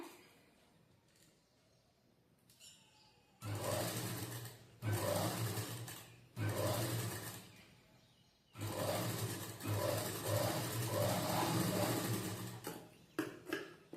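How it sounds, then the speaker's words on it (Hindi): Sewing machine stitching a strip onto a blouse in four loud bursts of rapid mechanical running, separated by short pauses, near and alone with no talk. "इस तरह से ये पट्टी लगा के इसको आप दाब सिलाई दे देंगे ऊपर से"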